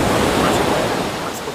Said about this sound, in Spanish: el sonido del agua golpeando suavemente la orilla